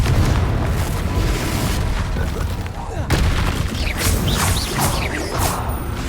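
Booming blasts from the Confringo spell in Hogwarts Legacy go off repeatedly amid continuous game effects and clattering noise, with a spoken voice mixed in.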